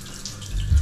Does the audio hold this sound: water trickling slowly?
yes